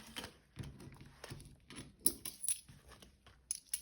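Coins clink and jingle as they are dropped into a cash envelope, several light metallic taps and rattles spread unevenly over a few quiet seconds.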